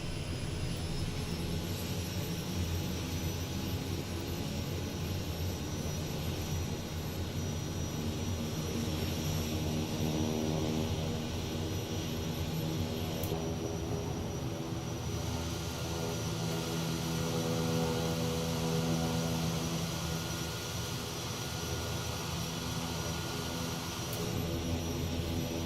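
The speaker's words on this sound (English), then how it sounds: "we got that engine purring" A turboprop aircraft engine in Microsoft Flight Simulator 2020 holds a steady, loud idle with a constant whine and low rumble throughout, alone and unbroken.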